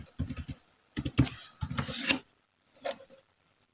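Bursts of typing on a computer keyboard, quick clusters of clicking keystrokes in a few separate runs with short pauses between, close and fairly quiet with no talking.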